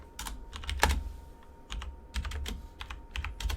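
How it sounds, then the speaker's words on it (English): Typing on a computer keyboard, heard as short clusters of crisp key clicks with brief pauses between bursts, close and fairly quiet in a room with low background hum. "Let me just type this in real quick."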